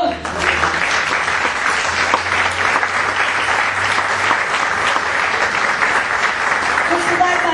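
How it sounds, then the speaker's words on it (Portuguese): A church congregation gives loud, continuous applause during a worship service, a dense wash of clapping that holds steady throughout, with voices faintly mixed in. "Dá um aplauso ao Senhor."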